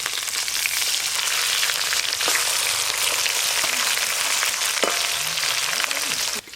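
Pieces of silver carp belly, cut from a 4 kg fish, fry in hot oil with a steady, dense sizzle and crackle, joined by a few faint clinks and scrapes near the end.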